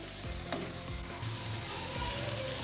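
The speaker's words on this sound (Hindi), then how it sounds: "अब हम अच्छे से मिक्सअप करेंगे और इसकी बुनाई करेंगे।" Boiled mash lentils (daal mash) being stirred and fried in a pan, with a quiet sizzle under repeated scraping strokes of a spoon against the pan.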